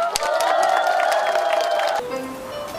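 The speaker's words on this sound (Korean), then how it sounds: "같이 힘찬 함성과 박수 주실 거죠?" An outdoor audience at a Seongbuk garden and theater festival gives a loud burst of cheering and clapping, which drops away abruptly after about two seconds.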